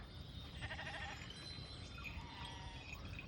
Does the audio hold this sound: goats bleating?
yes